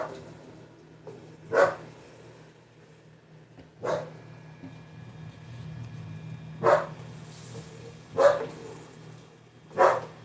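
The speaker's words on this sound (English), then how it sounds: "Now there you're going to hear the dog." A dog barks five times in slow, widely spaced single barks, moderately distant over a low steady background hum.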